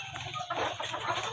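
Farm chickens cluck softly and close by in a short, brief burst, with no talking over them.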